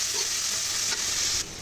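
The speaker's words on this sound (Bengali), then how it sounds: "দিয়ে দিলাম শুটকিগুলো তেলেতে ভেজে নেব ভালোভাবে" Dried fish (shutki) frying in oil in a pan, a steady close hissing sizzle that holds through the clip and briefly softens near the end, with no voices.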